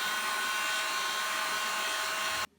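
A heat gun blows hot air onto a Samsung Galaxy S10e during a battery replacement, a steady close whirring rush that cuts off abruptly just before the end.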